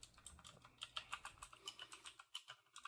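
Rapid, clattery computer keyboard typing, loud and close, with irregular bursts of keystrokes running continuously for a few seconds and no voices.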